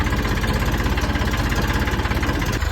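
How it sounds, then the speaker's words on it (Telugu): An Eicher 480 tractor engine runs steadily close by with a deep, even diesel throb and a vibrating rumble, set to plough a muddy field on its first time in the mud. "మన బండి అయితే ఐచర్ 480 అమ్మ."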